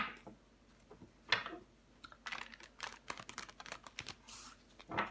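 Tarot cards are handled and laid out on a table, a series of close, light taps, flicks and slides coming in quick irregular clusters, fairly quiet.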